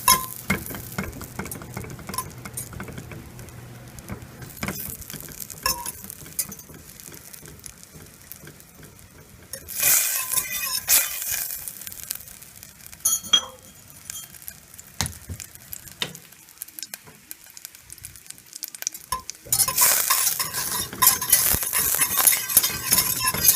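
Butter melting in a hot pan gives a steady sizzle and crackle for a chicken dinner, growing brighter and louder in two bursts before easing back, with light scrapes and ticks in between and no talking.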